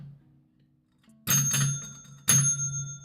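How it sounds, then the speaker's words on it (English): A small bell is struck twice, each a bright, loud ding with a long ringing decay, the second ring about a second after the first, close up with a faint hum beforehand. "Wait, let me ring the bell."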